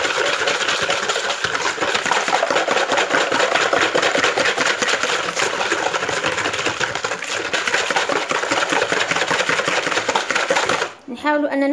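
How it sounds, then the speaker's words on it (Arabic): Cold milk, sugar and instant yeast being mixed in a bowl with vanilla, probably by an electric mixer, for a light brioche-style bread dough. A steady, loud whirring drone runs without a break and cuts out abruptly near the end. "نخلط هذه المقادير."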